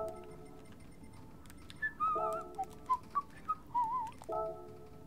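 A person whistles a short melodic tune in bursts of clear, bright notes with gliding pitch, fairly close and alone over a low background hum.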